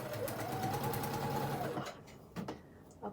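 A sewing machine stitches fabric pieces together in a fast, steady whirring run that stops abruptly, followed by a couple of quiet clicks.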